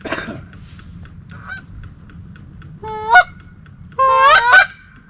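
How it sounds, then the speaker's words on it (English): Duck call blown by a hunter in the field, giving loud goose-like honks: a short rising note, then a burst of several harsh, close honks, with no talk. "This duck call sounded like shit too."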